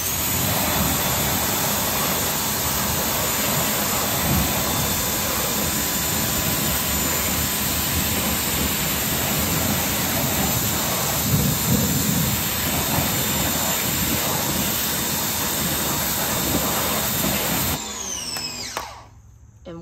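A strong pressurized water spray hisses steadily and loudly against the wheels of an Audi S5 during a rinse, a broad continuous rush that fades out near the end, with no voices.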